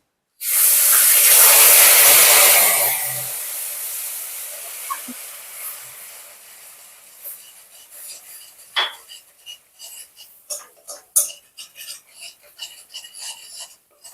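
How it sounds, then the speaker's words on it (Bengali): Water splashed into a hot pan while cooking red sweet yogurt bursts into a loud sizzling hiss that fades over a few seconds, followed by scattered scraping and clinking of a utensil in the pan. "এবার সামান্য একটু আমি জল দিয়ে দেবো।"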